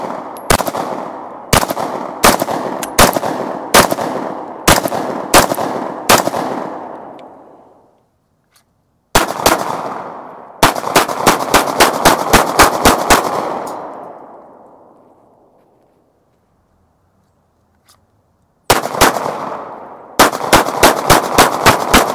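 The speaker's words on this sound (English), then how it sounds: "First rounds downrange with the FNS-9C." An FN FNS-9C pistol fired at an outdoor range from about 20 feet, loud sharp shots in quick strings of several rounds with ringing decay, separated by pauses of near silence.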